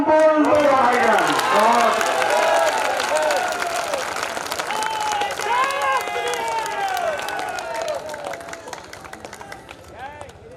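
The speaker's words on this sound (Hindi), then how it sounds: "जोरदार तालियों से उनका सम्मान कीजिए" Audience at a kavi sammelan at the Kishanpur mela applauds a poet: loud, dense clapping mixed with whooping voices from the crowd, gradually thinning and fading over about ten seconds.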